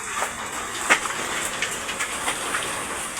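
Steady rain falls outdoors, a continuous hiss of drops on surfaces with scattered louder splats and patters throughout, no voices present.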